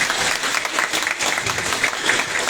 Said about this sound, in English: So please give Susan another round of applause.